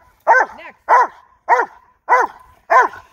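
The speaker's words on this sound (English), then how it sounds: "Steve, get your dog." A dog barks during protection training, giving five sharp, loud, close barks at an even rhythm with short silent gaps between them and no talking.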